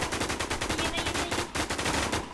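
Rapid automatic gunfire from the Warz online shooter game, dense bursts of shots repeating steadily and loudly throughout with no pauses.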